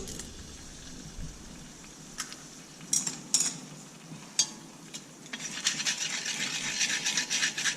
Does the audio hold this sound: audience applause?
no